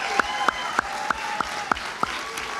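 A handful of separate, evenly timed claps sound at an awards event for young education professionals, sparse and fairly close with quiet gaps between them.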